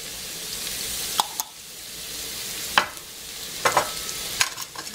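Chopped mushrooms in a frying pan with fat give a soft, steady sizzle, punctuated by several sharp spatula scrapes and taps as they are stirred, close and without talk.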